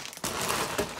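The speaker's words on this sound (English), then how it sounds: "So she came in a plastic bag." Plastic bag crinkling loudly and steadily for about a second while a Breyer Premiere Club toy horse is unboxed, with a sharper crackle near the end.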